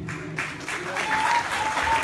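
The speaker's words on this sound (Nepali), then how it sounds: "अलिक ताली ओसेको जस्तो लाग्यो" Audience applause at a news-covered awards ceremony where best performers are announced, a steady wash of clapping filling the whole stretch with faint voices mixed in.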